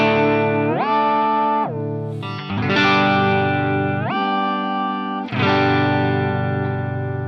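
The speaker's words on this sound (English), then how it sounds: "with it set to an octave, what this allows you to do is to get those iconic whammy sounds and shift it up using the foot switch" A Digitech Whammy DT set to an octave shifts a distorted guitar's sustained notes, sliding the pitch up and back down between held chords with smooth, loud swoops and short gaps.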